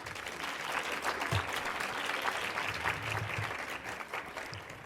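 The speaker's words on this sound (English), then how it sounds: "Can we please give all 3 young ladies a round of applause?" Steady, soft applause from a seated audience at a bar association women's committee scholarship tea, a dense even patter of many hands carrying on throughout at moderate distance.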